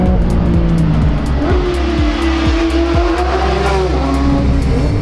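A Porsche 911 GT3 with a naturally aspirated six-cylinder engine, no turbo or hybrid, revving loud and close, its pitch climbing through rapid gear changes in a sharp, high-pitched wail.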